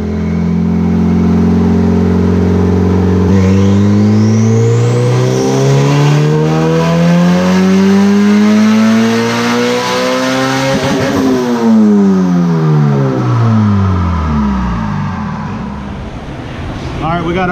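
A turbocharged car with a stock clutch, running about 7 psi of boost, makes a dyno base pull. The engine revs loudly and steadily climbs through the gears before dropping off at the end, close and continuous.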